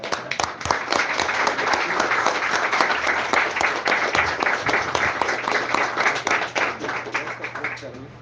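Church congregation clapping and applauding together, a dense, steady wash of hand claps sustained throughout, with a low hum underneath and some voices mixed in.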